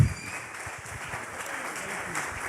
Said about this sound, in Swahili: Naomba tuwapokee kwa shangwe tukipiga makofi anapokuja hapa mbele.